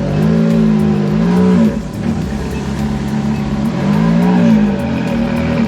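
Rough, throbbing engine note from a fire-damaged Ferrari that has sat unmoved for years, rising and falling as it backs up in reverse, loud and close with a pulsing, uneven rumble.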